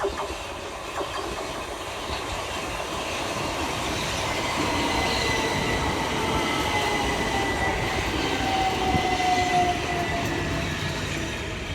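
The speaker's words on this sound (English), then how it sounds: "Arriving next into the station is 377452, working the 1502 Southern service from London Victoria through to Reigate." Southern Class 377 electric unit 377452 pulling into Purley station in South London, a steady rumble of wheels on rail with rising squeal and clatter, near and loud throughout, no voices.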